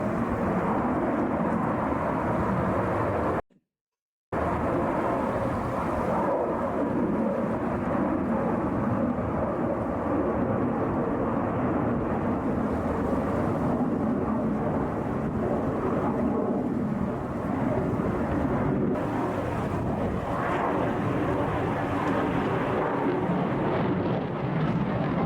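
A Su-57 fighter jet at a Chinese air show roars in a loud, continuous, broadband rumble that swells and fades across the whole stretch, broken once by a brief dropout.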